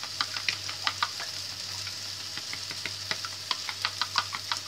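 Eggs seasoned with salt, chilli and turmeric being beaten in a bowl, a quiet run of rapid clicking taps against the bowl in uneven bursts over soft background hum, with no talking.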